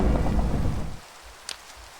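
Steady rain hiss of a Minecraft thunderstorm dominates the first second, then drops away leaving a quiet bed with a single brief crackling lightning snap near the end.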